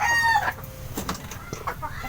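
A rooster crows loudly up close, its harmonic call rising and holding, followed by scattered clucking and farmyard clatter.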